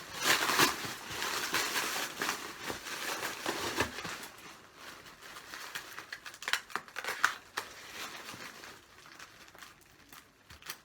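Scissors cut open the black paper wrapping of a mailed book parcel, with quick repeated snips, loud and close at first, then sparser cuts and light paper crinkling.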